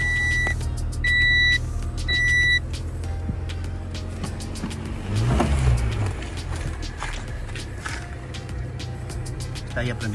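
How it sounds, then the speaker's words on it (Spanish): Engine of a 1995 Honda Civic turning over and idling after an ignition switch replacement, a steady low rumble running throughout, preceded by short electronic chimes, with people talking nearby over the running motor. "ya prendió el carro"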